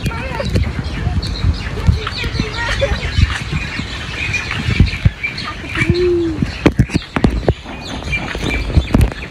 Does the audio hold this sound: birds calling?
yes